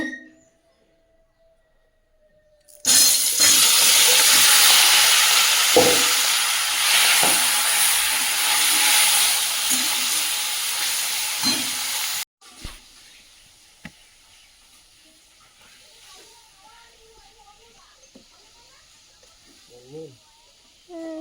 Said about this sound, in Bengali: এদিকে কড়াইটা চাপিয়ে দিয়েছি মাছগুলো ভেজে নেব